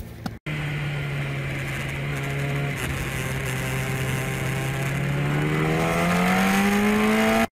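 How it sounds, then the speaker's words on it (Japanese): A 2015 Yamaha YZF R1 motorcycle engine starts and runs close by, a steady idle hum that rises slowly in pitch toward the end, with a faint mechanical rattle from a loose exhaust flange. "え、エンジンかけたらわかるかな。"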